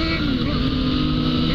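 A Yamaha MT-09 motorcycle with its stock exhaust being ridden, a loud, continuous engine drone with steady low harmonics and no talk over it.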